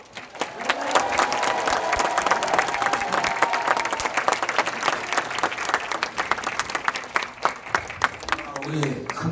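Large audience at a Korean Presbyterian church assembly giving loud, sustained applause, a thick crackling wash of many hands with some cheering and voices mixed in.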